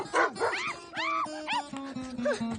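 A dog barks repeatedly in a scene from the Hindi film Stree, with loud close barks and yelps in an irregular run, overlapping with people talking.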